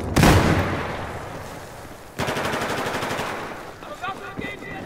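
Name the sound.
AWS machine gun fire in Battlefield 4 video game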